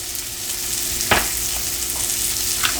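Japanese eggplant, peppers and garlic sizzle steadily in a hot pan on medium-high heat, a constant close frying hiss with a brief louder stir or clatter near the middle.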